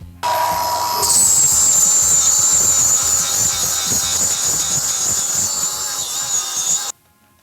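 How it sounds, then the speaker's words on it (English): An angle grinder with a flap disc scrubs rust off metal parts for rat rod welding, a steady loud high-pitched whine with grinding rasp running continuously for about seven seconds before cutting off abruptly. "I'm gonna take my flap disc here. I'm gonna clean up all the rust on here"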